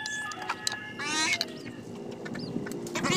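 Geese honking in short nasal calls, mixed with other bird chatter over a steady low background hum; moderately close and irregular.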